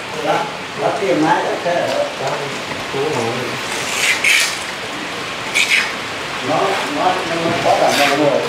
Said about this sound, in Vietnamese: mưa luôn đấy